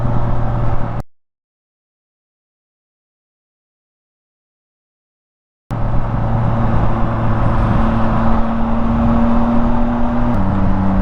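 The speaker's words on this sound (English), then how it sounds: "the stock exhaust is low-key turning into a nice sound note to me" A BMW S1000R motorcycle with its stock exhaust hums along on a commute, a loud, steady engine drone with shifting tones that cuts out completely for several seconds before resuming.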